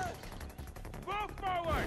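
Gunfire crackles in Far Cry 4 as a run of quick shots mixed with game voices shouting over the action, the reports fairly dense and mid-distance beneath the talk.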